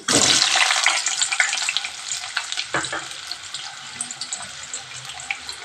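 Ingredients for coriander (kothimeera) rice frying in a pan before the onions go in, a steady close hiss with a few scraping stir sounds, and no talking.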